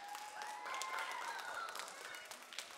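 Cheering and clapping from a school chapel audience applauding their teachers, a steady wash of claps with a few voices rising above it throughout.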